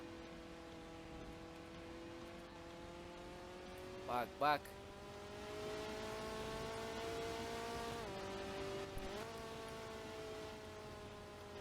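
A Ferrari's engine in the Driving Empire racing game drones with a steady, slowly rising pitch as it accelerates at high speed, holding on throughout, while someone talks briefly over it.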